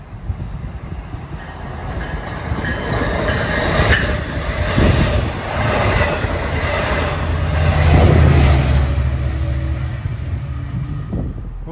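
LIRR train 657, Port Jeff to Jamaica, passes on the Main Line with a swelling rumble, repeated wheel clicks and a low engine drone that peaks near the end, with no voices over it.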